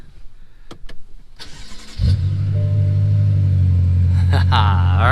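A BMW M6 Gran Coupe engine cranks and fires at about two seconds, then settles into a loud, steady idle rumble, close up. Some faint handling noises come before the start.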